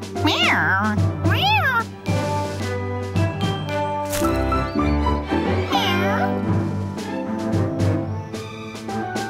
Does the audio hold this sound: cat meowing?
yes